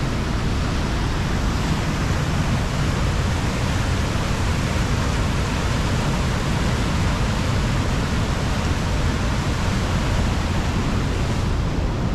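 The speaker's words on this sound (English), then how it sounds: "water flowing over a falls like that" High water rapids on the Trent pour over a falls in a loud, constant, unbroken roar of rushing water that continues without a break.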